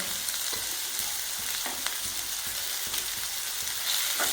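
Pepper, green chilli and cashew powder sauté in a pan for a fish mappas, a dense, even, close hiss of frying with faint stirring clicks throughout and no voices.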